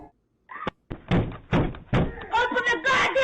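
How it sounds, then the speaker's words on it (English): A woman pounds on a home's front door, heavy thudding blows landing in a rough repeated rhythm, loud and close, with her shouting voice mixed in between the bangs. "caught on camera banging on this person's front door"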